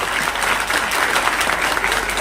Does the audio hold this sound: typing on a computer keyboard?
no